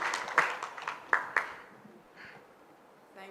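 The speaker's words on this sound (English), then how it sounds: "I need a clap on that." A few scattered hand claps from a small audience at an energy and economic growth forum in Ghana, sparse and fairly faint, fading out after about a second and a half.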